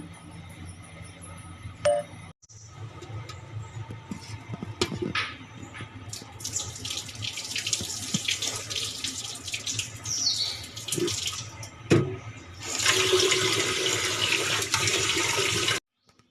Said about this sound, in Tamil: அரை கிலோ மாவு பச்சரிசி எடுத்துருக்கிறேன் கழுவி வச்சு கழுவி ஊற வச்சுக்கலாங்க